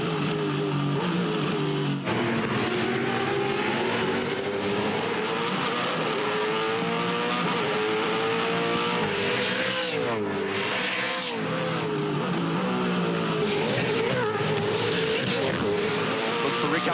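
Race cars on cold tyres accelerate hard through a lap, engines roaring loud and continuous with shifting pitch, a tyre skid, and commentary talking over the din.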